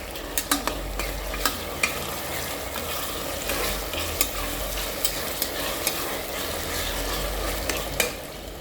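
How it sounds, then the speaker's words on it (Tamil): Ginger and garlic sizzle in hot oil with onions, a steady close frying hiss broken by repeated scrapes and taps of a spoon stirring the pan. "இந்த இஞ்சி பூண்டு வந்து நல்லா வதங்கணும்"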